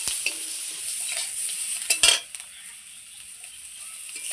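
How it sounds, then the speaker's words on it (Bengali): Ripe pointed gourds frying in a wok, a low steady sizzle broken by a few sharp metal spatula scrapes and clinks against the pan, close and without talk. "আমি পাকা পাকা পটলগুলো কত সুন্দর করে ভেজে নিচ্ছি"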